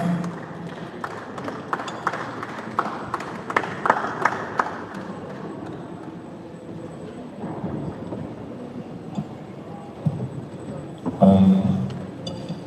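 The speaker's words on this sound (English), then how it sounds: "Please, a round of applause for him as he joins us." Audience applause at an AI summit in Kwara greeting a moderator as he joins, a faint, rough patter of clapping that thins out and fades, with a brief louder burst near the end.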